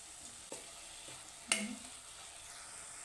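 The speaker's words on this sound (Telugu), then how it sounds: "ఇంకా వేగాలి, కొంచెం ఆయిల్ తక్కువైంది" Mutton curry frying in oil in a pan, tribal style, a faint steady sizzle under a couple of soft stirring knocks and one sharper clatter near the middle, with no talking.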